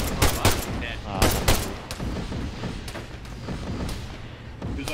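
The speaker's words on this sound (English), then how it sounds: "I think we're still getting shot from the southwest somewhere." Rapid gunfire bursts crack through a battle in the video game Arma 3, with loud close volleys early on and continuous firing and thuds throughout, with players talking under the shooting.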